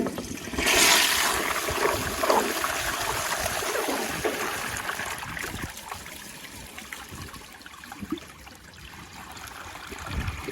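A 1981 Eljer Emblem toilet on a flushometer valve with a plug siphon jet, flushing a washcloth: a loud rushing surge in the first seconds that settles into steady trickling and draining water.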